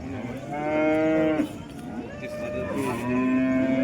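A cow moos loudly at a cattle market, several long drawn-out calls in a row, close and clear, with market noise underneath.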